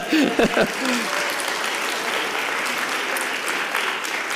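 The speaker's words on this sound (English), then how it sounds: "You can applaud." Audience at a speech competition applauding, a dense steady wash of clapping that carries on evenly after a brief spoken word at the start.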